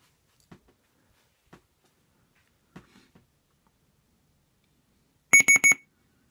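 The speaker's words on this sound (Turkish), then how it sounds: "alarmımız çalmaya başladı" After a few soft clicks, a Loci iBox D90 digital alarm clock sounds a rapid series of high electronic beeps, loud and close, in a short burst.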